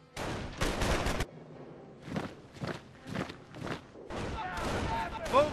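Bursts of gunfire in a Company of Heroes: Opposing Fronts battle, repeated loud volleys in quick succession with shouted voices between and over them.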